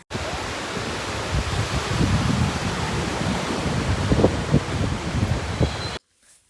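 Beach surf and wind roar as a steady, loud wash of waves with gusty noise for about six seconds, then stop abruptly.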